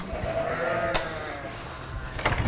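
Sheep bleating on a livestock farm, several overlapping calls at moderate distance with a couple of sharper bursts, set against steady barnyard ambience and no speech.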